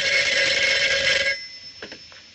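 A telephone bell rings loudly and continuously for over a second, then cuts off, leaving faint handling clicks in a quiet room.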